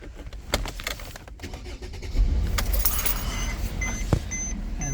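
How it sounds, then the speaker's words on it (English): A Mercedes E350 W212 engine cranks and catches around midway, settling into a steady close idle after some clicks and key jingling. "we can just start our car."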